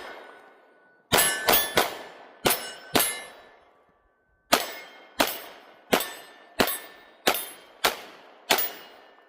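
A Sig P365 AXG Legion pistol fires at a steel target outdoors in cold weather. About a dozen sharp metallic clangs ring out in two quick strings, each hit leaving a brief ringing decay.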